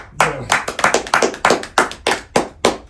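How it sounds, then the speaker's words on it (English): A single person claps in a quick irregular run of sharp, close hand claps, loud and alone with no talk over them. "Clap it up."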